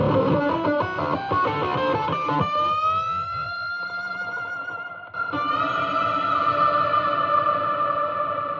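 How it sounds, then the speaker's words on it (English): An electric guitar played through a small Supro Ozark amplifier, first strummed chords, then sustained ringing notes washed in heavy reverb once the pedal kicks in, loud and echoing with no voices. "You can hear where I clicked on the reverb pedal for the last bit."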